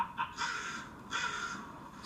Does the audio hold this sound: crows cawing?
yes